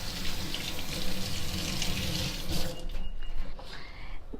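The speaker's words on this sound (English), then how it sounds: "I wash my hands." Tap water runs steadily into a sink as hands are washed under it, a continuous close splashing hiss that breaks into lighter, uneven trickles and drips near the end.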